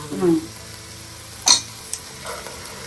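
Tomato paste hits a hot pan for chicken keema pulao in a pressure cooker, giving a brief sizzle and a short scrape of stirring, then quieter frying.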